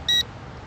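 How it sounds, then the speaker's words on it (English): Drone remote controller for an Eachine E520S quadcopter gives a single short, bright electronic beep during return-to-home, standing alone above a low, quiet background. "here's the controller's beeping"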